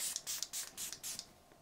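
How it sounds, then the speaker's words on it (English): A D'Alba Italian truffle oil spray being misted in five quick, soft hissing bursts, close and quiet, followed by a brief pause and a faint click. "It is the Italian truffle oil spray."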